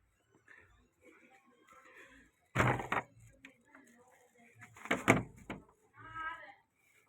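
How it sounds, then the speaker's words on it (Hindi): The door of a home is opened with two loud rattling, creaking bursts a few seconds apart. Quieter rustling, faint voices and movement fill the room between them. "दरवाजा खोलो।"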